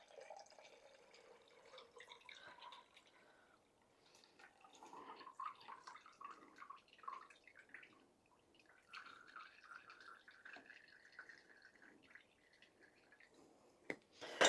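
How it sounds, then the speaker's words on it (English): Turkey broth being strained off a soup casserole starter, faint trickling and dripping liquid, soft and irregular throughout with a small clunk near the end. "I want to strain off this turkey broth."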